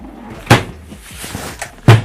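A flip-down storage panel in a 2017 Airstream Classic trailer knocks shut with a sharp thud, followed by lighter rattles and a second pair of firm knocks near the end.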